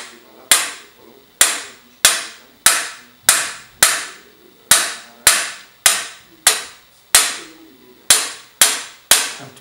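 A hammer taps a trumpet's valve casing during restoration: about fifteen sharp, ringing metallic strikes at a steady rhythm, each decaying quickly, close and loud with no talk.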